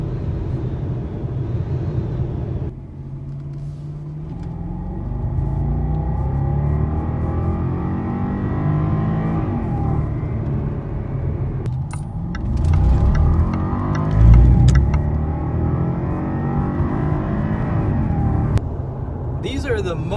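A Jaguar XJ, the non-supercharged 380-horsepower version, accelerates hard with a rising engine growl and revving heard from inside the cabin, someone talking over it.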